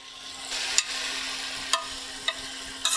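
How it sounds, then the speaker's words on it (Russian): Potatoes and vegetables fry in a pan of vegetable oil and butter, giving a steady, close sizzle throughout, with a few sharp spatters and clicks of stirring breaking through. "обжариваем еще минут 10 примерно, как картошечка приготовится"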